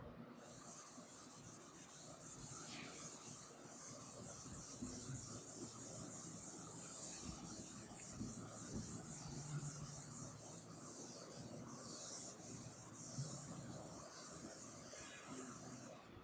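Writing being rubbed off a classroom board with a duster, a continuous soft hissing swish that stays steady and fairly faint for a long stretch, with no talking.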